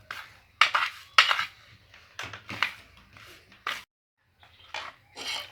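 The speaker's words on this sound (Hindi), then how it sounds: "अब इन चीज़ों को मैंने अच्छी तरह से करना है मिक्स" Spoon stirring and scraping kalonji, ajwain and salt together in a bowl for lemon pickle, a series of short, fairly close scrapes and clinks in an irregular rhythm with brief pauses.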